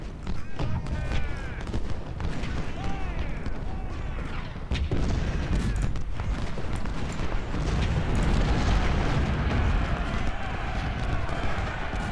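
Artillery fire in the Civil War strategy game Ultimate General: Civil War booms and rumbles repeatedly under a dense wash of battle noise, with a voice talking over it throughout.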